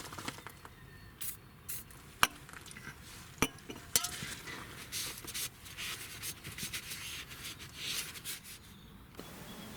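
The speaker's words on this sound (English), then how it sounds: "use some sanding paper and some penetrating oil to remove some corrosion" Close, scratchy rubbing of sandpaper on corroded metal around a BMW Z3 control arm wishbone, in irregular strokes, with a few sharp clinks of metal parts.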